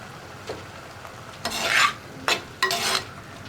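A spoon stirs bitter gourd and mango curry in a pan after salt goes in, giving several short scraping, sizzling strokes in separate bursts, close up with no talking.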